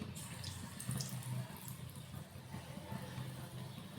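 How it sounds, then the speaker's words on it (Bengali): Gram-flour-battered bok flowers dropped into hot oil for deep frying give a continuous hissing sizzle, fairly faint and close, that holds steady throughout. "এখন বেসনের মধ্যে সেই ফুল ফুলগুলোকে চুবিয়ে চুবিয়ে আমি তেলের ওপরে ছেড়ে দিচ্ছি"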